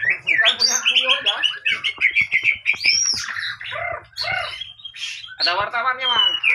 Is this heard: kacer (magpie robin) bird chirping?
yes